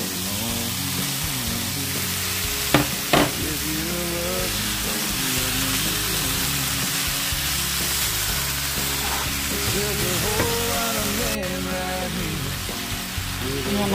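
Shrimps going into a pan with broccoli and frying: a steady, close, crackling sizzle running throughout, with a couple of brief clatters near the start and a low voice faintly underneath.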